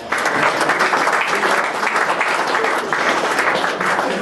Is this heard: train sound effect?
no